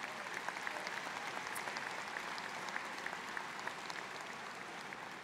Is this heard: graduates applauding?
yes